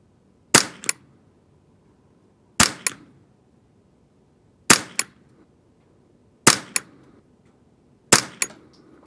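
A Ruger 10/22 rifle fires five semi-auto Eley bench rest rounds, each a sharp loud crack followed by a faint echo, spaced about two seconds apart, with silence between shots.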